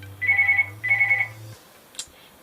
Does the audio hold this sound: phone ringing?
yes